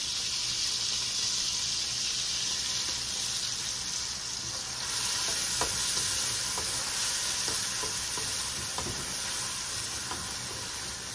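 Onion, garlic and green chilies sizzling in hot oil for a shrimp curry, a loud continuous hiss and crackle with occasional sharp pops and stirring clinks, no talking.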